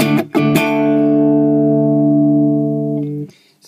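A single guitar note through a Boss CS-3 compressor pedal, picked twice and then sustained evenly and clearly for about three seconds before it is cut off.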